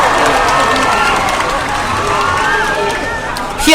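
A dense crowd of pro-democracy protesters fills Ratchaprasong intersection in Bangkok, a loud continuous murmur of many voices with scattered shouts and cheering close by.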